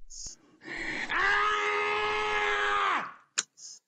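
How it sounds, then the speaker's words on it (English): A man gives a long, loud, strained scream in a played-back video clip, sustained for about two seconds and rising in intensity before cutting off, with brief short sounds just before and after it. "That's his scream."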